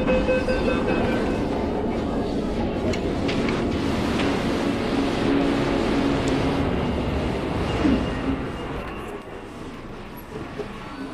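A Beijing metro train rides along with a loud, continuous rumble and rushing noise that eases off near the end.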